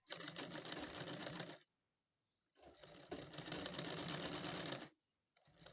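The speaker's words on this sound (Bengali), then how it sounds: "এবার একদম ধার দিয়ে আর একটা করে সেলাই দিয়ে নেবো" Sewing machine stitching along the edge of a nightie sleeve, two close, even bursts of rapid mechanical whirring separated by a pause, then a third short burst starting, with no talk.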